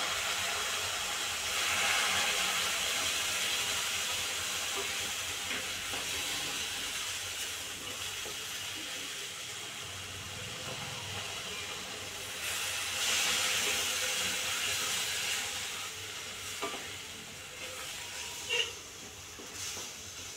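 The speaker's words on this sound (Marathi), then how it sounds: "हळूहळू गरम पाणी घालायचं." A loud steady hiss of steam and sizzling rises as water meets a hot pan, easing off and swelling again over about twenty seconds.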